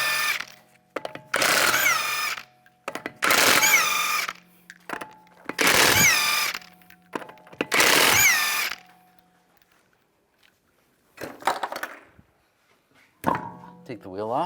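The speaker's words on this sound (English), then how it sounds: "take the lug nuts off." Lug nuts come off a 2011-2015 Chevrolet Cruze front wheel with a 19mm socket on a power tool, which gives several loud, close bursts of whirring, each a second or two long, with short pauses and clunks between them.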